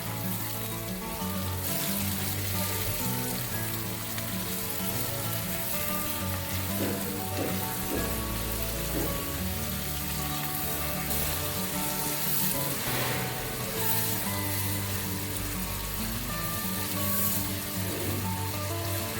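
Tomatoes and spices with coriander stems sizzle loudly in a pan for masala paneer while being stirred, a dense continuous frying hiss with occasional scrapes, no talking.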